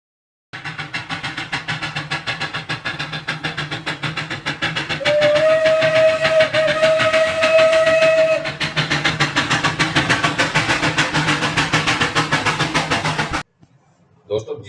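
The toy train on the Shimla railway chugs along in a steady rapid rhythm of puffs and clatter, and partway through a sustained whistle sounds for a few seconds before the chugging continues and then cuts off.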